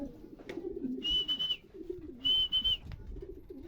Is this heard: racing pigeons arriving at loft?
yes